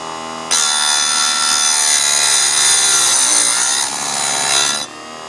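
A steady, continuous high rasp as a file works a chainsaw tooth to sharpen it, one sustained stroke run with no talk over it.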